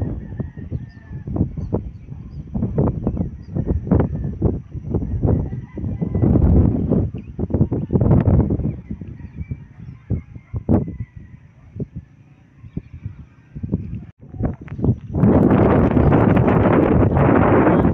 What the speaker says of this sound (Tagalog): Napakalakas po ng simoy dito.